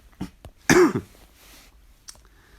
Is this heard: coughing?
yes